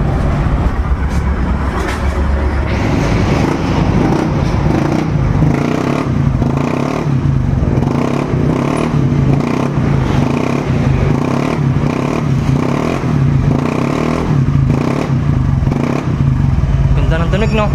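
A Honda Click 125i scooter fitted with a modified Apido Pipe V4 exhaust revs repeatedly, loud and close, with sharp throttle blips and a crackly exhaust note, while people talk nearby.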